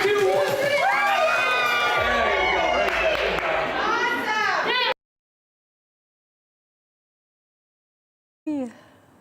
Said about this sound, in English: Love that cheer at the end.